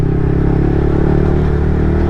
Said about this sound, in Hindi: भाई बच्चे खुश हो जाते स्पोर्ट्स बाइक को देख कर, एग्जॉस्ट साउंड सुन के।